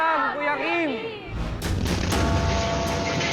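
An LPG gas explosion strikes with a loud boom after speech-like tonal sounds, followed by sustained roaring, crackling noise that stays dense and loud to the end.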